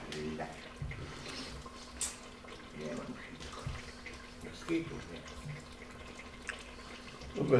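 Tap water runs steadily into a kitchen sink, with groats being rinsed, beneath near, ongoing conversation between people.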